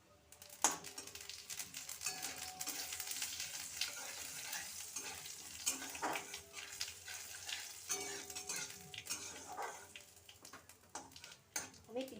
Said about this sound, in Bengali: শুকনো লঙ্কাটা ফোড়ন দিয়ে দিচ্ছি। পাঁচ ফোড়নটাও দিয়ে দিলাম।